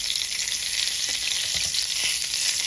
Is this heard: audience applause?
no